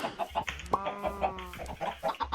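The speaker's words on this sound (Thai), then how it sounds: "อันนี้ไก่นะครับ" A blocky Minecraft chicken clucks in short repeated bursts, with a brief tonal squawk partway through, near and clear against a quiet game background.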